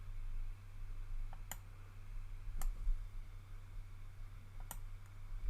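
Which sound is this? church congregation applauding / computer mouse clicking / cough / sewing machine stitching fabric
computer mouse clicking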